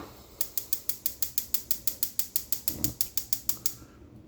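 Stove knob turned to switch on the heat before cooking potato and onion soup: a quick run of about twenty evenly spaced sharp clicks, close and fairly soft, ending in quiet, with no speech.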